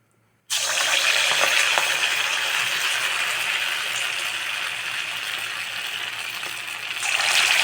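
Sabudana bonda batter dropped into hot oil, sizzling and bubbling steadily and loudly at close range throughout, with a brief surge in the fry near the end.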